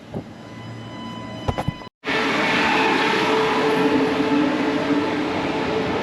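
Commuter train at a Brisbane railway station platform on the older line to South Bank and South Brisbane, a steady loud rumbling roar close by after a brief cut, with a few sharp clanks early on.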